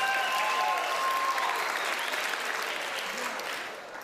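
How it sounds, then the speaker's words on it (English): An audience breaks into loud, dense applause that holds strong and then begins to thin and fade toward the end, with some voices and cheers within it. "applause."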